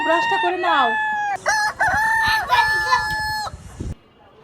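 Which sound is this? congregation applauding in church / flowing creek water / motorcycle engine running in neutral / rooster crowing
rooster crowing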